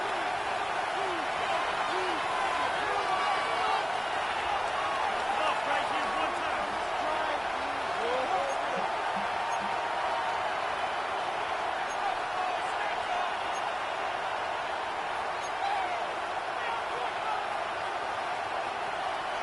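Stadium crowd at an Eagles versus Washington NFL game keeps up a dense, steady roar through the whole stretch, loud and unbroken, with no clear voices on top.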